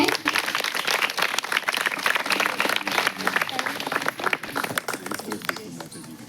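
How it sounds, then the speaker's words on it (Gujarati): Loud, dense audience applause fills a hall during a Navratri celebration prize distribution, sustained throughout with steady clapping and some crowd noise mixed in. "જોરદાર તાળીઓ થઈ જાય."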